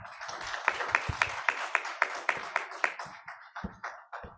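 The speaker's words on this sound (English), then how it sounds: "A big round of applause for all the spouses," Audience applause at an award ceremony during a summit in Delhi, a scattered round of clapping with distinct individual claps in an uneven rhythm, fairly faint and fading toward the end.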